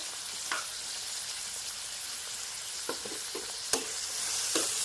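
Radish curry being stirred in a pan with turmeric and salt, a steady low sizzle with scattered scraping clicks of the spoon against the pan, moderately close and with no talk.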